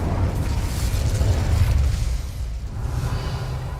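The Incendio fire spell in Hogwarts Legacy erupts with a deep rumbling whoosh and roar of flame, loud at first and then easing into a softer sustained crackle, with no voices.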